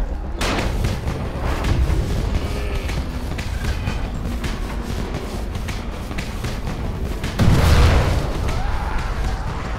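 Crackling pops and bursts like firecrackers go off continuously in a Dying Light game scene from a trap, with a deeper, louder boom near the end.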